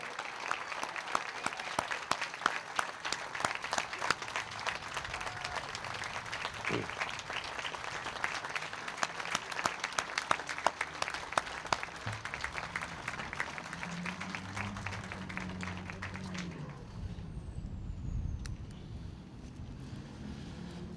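Audience applause for a World War II Navy veteran at a hometown heroes banner dedication ceremony, steady broadband clapping for about sixteen seconds before fading out, with some outdoor rumble and noise at the end.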